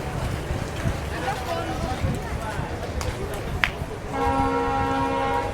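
The Mongla commuter train pulls out of Katakhali railway station with a rumbling, clattering roll, and a long steady horn-like tone sounds near the end.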